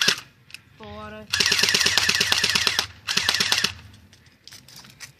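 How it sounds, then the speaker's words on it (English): Full-auto bursts from an airsoft M16-style rifle with a metal magazine: rapid mechanical clattering rattles in two close, loud strings, with a brief tonal whine before the first and scattered clicks afterward. "Full auto."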